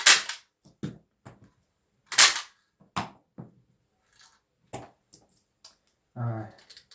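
A cheap toy Desert Eagle replica pistol fires several sharp, close cracking pops at uneven intervals, with small clicks and handling noises in between.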